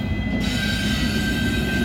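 A CSX intermodal freight train with an ET44AH locomotive running mid-train rolls past at close range in northern Ohio, a loud steady rumble with a high, thin wheel squeal riding on top.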